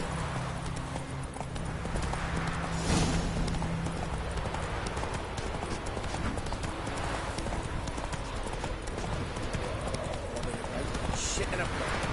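Hoofbeats of a horse galloping in The Witcher 3 video game, a steady rapid clip-clop running close and loud for the whole stretch, with a voice talking over it.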